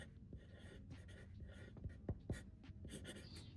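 A pencil is scratched across paper to write a label on a tattoo shading practice sheet. Several short, soft strokes come close up but very quiet, spaced irregularly with brief pauses between them.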